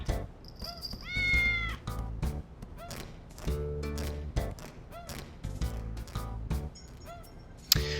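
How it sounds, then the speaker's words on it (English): A cat meows repeatedly in the video game Digital Devil Saga, several clear, rising cries set over a busy bed of game music and effects, with no talking. "So the cat wants out."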